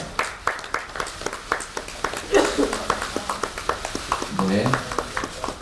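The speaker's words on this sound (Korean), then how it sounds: "박수 부탁드리겠습니다" Scattered applause at a promotional ambassador appointment ceremony for the 49th Grand Bell Awards film festival, a sparse, steady patter of individual claps with voices speaking over it.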